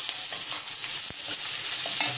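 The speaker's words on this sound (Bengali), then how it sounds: "এবার আমি এদিকে কড়াটা নেড়ে দিই" Tomatoes frying in a kadai being stirred, a steady close hiss of sizzling oil with soft scraping strokes and one sharp utensil knock partway through, no voices.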